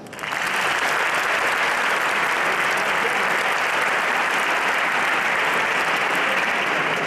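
An audience at a flamenco concert bursts into applause for the guitarist, starting abruptly and holding as a dense, loud, sustained roar of clapping.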